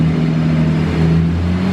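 A Nissan Skyline engine runs loud and close, a deep steady rumble with a slight rise in revs over the short stretch, no talk.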